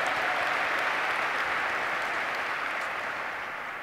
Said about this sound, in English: Can we have a round of applause for everyone who traveled from so far to be here with us this week?